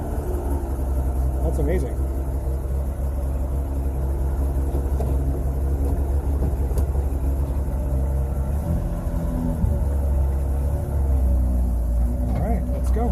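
A large vehicle in a shop runs after a push-button start, its engine holding a low, steady idling rumble close by while people talk over it.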